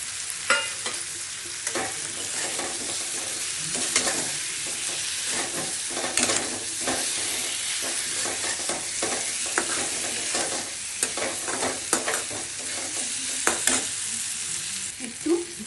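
Eggs fry in a pan for egg kosha with a loud, continuous sizzle and frequent rhythmic scraping stirs of a spatula throughout, with no speech.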